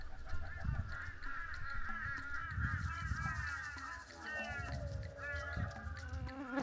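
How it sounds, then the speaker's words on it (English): Crows cawing and calling repeatedly at a quiet outback lookout along the Broome to Perth route, with harsh, echoing calls layered over steady insect or fly buzzing and light wind. "the echoing caw of crows creating a desolate atmosphere"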